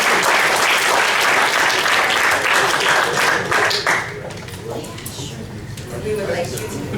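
A conference audience at the OpenSIPS Summit gives a loud, dense round of applause that holds strong, then thins and tapers off partway through, leaving scattered claps and faint room noise.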